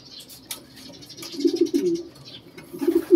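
Pigeons cooing at a racing-pigeon release point, soft low coos rising in a couple of clustered bursts over light outdoor background noise, with a faint chirp early on.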